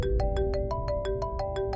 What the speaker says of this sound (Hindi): मामू पापा का फोन है?